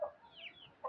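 A chicken on a small farm clucks faintly, with a brief cluck at the start and another at the end, separated by a soft, quiet stretch.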